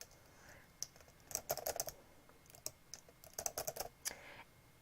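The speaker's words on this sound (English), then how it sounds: "I will start typing" Someone types on a laptop keyboard in quick bursts of soft, close clicks. The runs of keystrokes are broken by short pauses, and nobody speaks.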